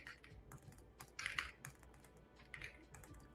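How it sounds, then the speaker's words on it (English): Soft, fast typing on a computer keyboard comes through as irregular clusters of key clicks, faint and close, with a brief flurry in the middle and no talking. "Sorry for my typing here."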